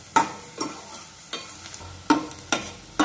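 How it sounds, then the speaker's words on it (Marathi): Ginger and onion sautéing in oil over a low flame for pomfret curry, heard as a soft sizzle broken by about six evenly spaced scraping stirs, close and quiet. "अशा पद्धतीने कांदा थोडा मऊ होई तोपर्यंत परतून घ्यायचा आहे।"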